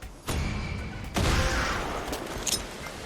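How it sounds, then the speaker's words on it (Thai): Gunshots from Far Cry 6 fired near water to lure a shark ring out sharply, a crack early on and a heavier blast about a second later, followed by lingering rumble and a few fainter clicks. "ดังนั้นผมก็จะยิงปืนล่อไปสักทีหนึ่ง"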